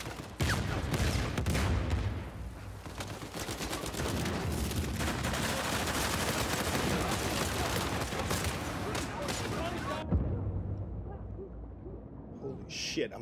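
Dense gunfire in Uncharted 4 multiplayer, a sniper among the shooters, a busy mix of shots and blasts that keeps going for about ten seconds before cutting out, with a voice talking over part of it.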